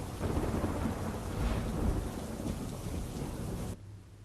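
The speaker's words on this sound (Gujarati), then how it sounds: "અહીં વરસાદ વિરામ લેવાનું નામ નથી લઈ રહ્યો" Heavy rain pouring down with rolling thunder in Junagadh, Gujarat, a loud dense roar of falling water with low rumbles, cutting abruptly to quieter rain near the end.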